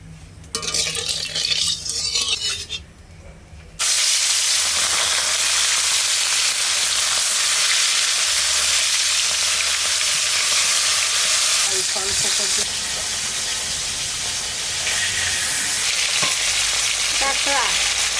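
Old koi fish fry in hot oil in a village kitchen, a quieter stir at first giving way to a loud, steady crackling sizzle that carries on close-up for the rest of the time, with faint voices now and then.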